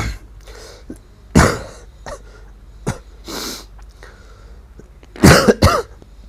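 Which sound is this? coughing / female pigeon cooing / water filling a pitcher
coughing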